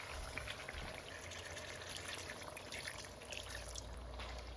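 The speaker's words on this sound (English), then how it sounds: "add 1/2 cup of water" Half a cup of water is poured into a pan of frying chicken, with a soft, continuous trickle and a faint sizzle beneath it and a small clink at the end.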